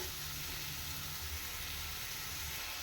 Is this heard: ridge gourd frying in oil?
yes